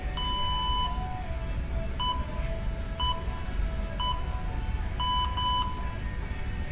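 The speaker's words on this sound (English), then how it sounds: "countdown timer is going to start to get you prepped, and then you'll hear your 3, 2, 1," Workout countdown timer beeping in clear electronic tones, a pair of short beeps roughly each second, steady over a constant low background hum with no talk.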